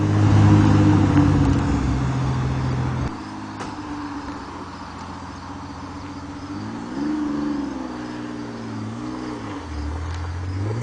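A Pontiac Fiero V6 drives off in first gear with a steady engine hum that rises and falls as the throttle changes, fairly loud and close, with no talking.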